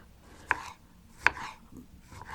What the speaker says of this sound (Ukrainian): Помідор теж нарізаю.